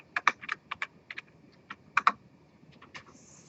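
Fingers type on a computer keyboard, a close, clear series of quick clicking keystrokes in uneven bursts with brief pauses, with no speech.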